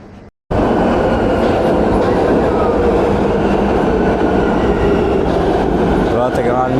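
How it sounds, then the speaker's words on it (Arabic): A Vienna metro train pulls into a station with a loud, continuous rolling rumble and wheel clatter close by, and a brief squeal of wheels near the end. "دلوقتي يا جماعة المترو جه"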